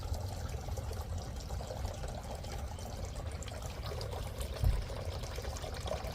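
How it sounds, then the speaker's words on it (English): A small electric garden water fountain, not solar powered, trickles and splashes steadily among hostas and hydrangeas, a continuous soft watery burble with faint outdoor background and no talking. "this is not a solar fountain, so you have to make sure that you keep water in that"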